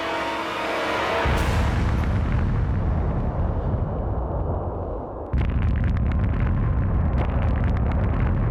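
An underwater nuclear bomb explodes at Bikini Atoll, suspended 90 feet below the waterline from a landing craft, producing a loud, sustained roaring rumble that dips briefly and then surges again, with no voices.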